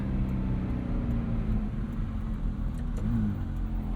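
A 2008 Ferrari F430 Spider's V8 engine drones steadily while driving, low and constant with road rumble. A brief rise in pitch comes near the three-second mark.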